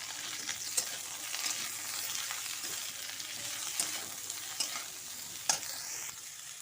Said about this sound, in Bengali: গাজরটা একটু ভেজে নিতে হবে।